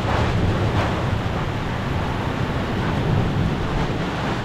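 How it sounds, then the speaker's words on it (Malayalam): Strong wind roaring through a heavy rainstorm, a loud and steady broadband rush that buffets the microphone with a rumbling low end and no break across the whole stretch. "വല്ലാത്ത കാറ്റാണ് വീഴുന്നത്"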